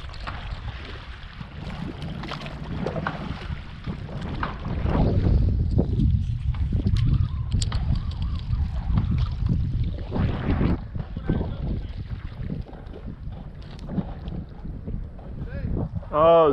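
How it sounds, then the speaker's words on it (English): Strong wind buffets the microphone on open water from a stand-up paddle board, a continuous roaring gust noise with faint water sloshing underneath, swelling and easing over the stretch. "it's getting real windy"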